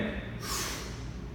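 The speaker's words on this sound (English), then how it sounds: "take a breath in" One deep breath is drawn in sharply through the nose during breathing-based stretching exercises, a sudden close, loud rush of air that holds steady to the end with no talking.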